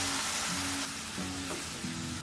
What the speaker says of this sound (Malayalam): ഇനി ഇതിലേക്ക് ഒരു മീഡിയം സൈസ് ടൊമാറ്റോ ചോപ്പ് ചെയ്ത് ചേർത്ത് 1 മിനിറ്റ് നേരം ഇളക്കുക